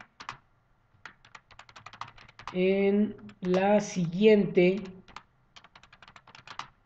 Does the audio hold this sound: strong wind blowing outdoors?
no